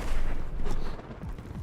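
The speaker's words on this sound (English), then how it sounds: "Airstrike at World Cup" Airstrike explosions rumble in a Fortnite World Cup match, a dense, loud, continuous barrage of overlapping booms and blasts that eases slightly toward the end.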